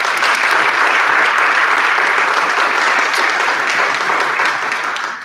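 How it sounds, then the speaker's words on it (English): At a high school senior awards night, the crowd breaks into a loud, continuous round of applause that fills the whole stretch, with dense overlapping claps easing slightly only at the very end. "Let's give her a round of applause."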